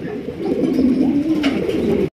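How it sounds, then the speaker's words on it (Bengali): Mosaldam pigeons cooing nearby, a soft low throaty warble that rises and falls continuously for a couple of seconds, with no voices. "দেখেন কত সুন্দর মোসালদম কবুতর ভাই"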